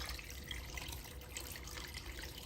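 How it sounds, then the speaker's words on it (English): Water runs steadily into a cooking pot holding gizzards and a whole bulb of garlic, a soft continuous splashing pour with no talk. "we add water to boil"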